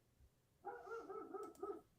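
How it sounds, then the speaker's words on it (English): Neighbouring dogs barking outside, a short faint burst of a few barks heard from a distance. "There's these dogs next door, right? And they're never outside. And today they're outside barking."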